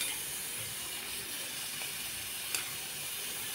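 Sanjori pastries sizzling as they fry in hot oil over a medium gas flame, a steady close hiss of bubbling oil with one faint crackle, no one talking.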